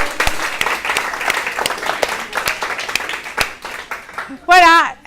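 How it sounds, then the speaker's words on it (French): An audience applauds at the end of a workshop session: a room full of scattered hand claps, moderately loud and continuous, ending with a brief vocal sound at the close. "je crois qu'on peut l'applaudir."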